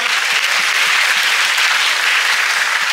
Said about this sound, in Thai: ขอเสียงปรบมือกับสองท่านด้วยครับ